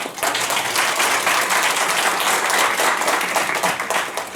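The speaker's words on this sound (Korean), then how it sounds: "힘찬 환영의 박수를 부탁드립니다" An audience at a carbon-neutrality forum gives loud, vigorous welcoming applause for the guests, a thick, continuous wash of clapping that holds steady throughout.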